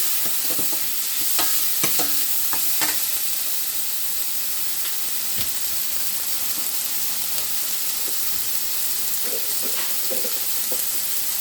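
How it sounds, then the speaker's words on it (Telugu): Tomatoes fry in a pan for an egg drop curry with a steady, close hiss and sizzle, broken by scattered clicks and scrapes of stirring. "ఇవి ఇక్కడ టమాటాలు వేగుతూ ఉంటాయి"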